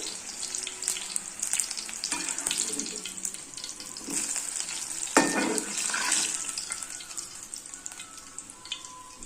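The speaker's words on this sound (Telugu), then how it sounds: "ఆయిల్ ఎక్కువ ఉంటే కూడా మరీ మెత్తగా అయిపోతాయండి, కొంచెం వేసి చేస్తున్నానండి" Eggplant bajji, whole stuffed eggplants, frying in a small amount of oil in a pan, giving a steady close sizzle with occasional stirring and scraping noises and no talk.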